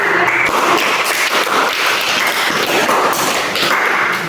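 Crowd applause from a school physical education class in Bondowoso, Indonesia, after circuit training fitness exercises: dense, steady clapping of many hands that fills the whole clip at close range with no talk over it.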